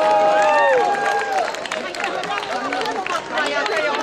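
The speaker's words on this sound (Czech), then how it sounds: "Můžeme tleskat." Applause at a town festival in Desná breaks out after a prize is awarded, with whistles and cheering voices over a steady crowd noise that holds loud for the whole stretch.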